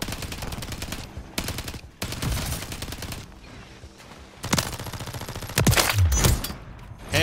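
Repeated bursts of automatic gunfire in Call of Duty: Modern Warfare III, loud and close, with rapid clusters of shots separated by brief gaps.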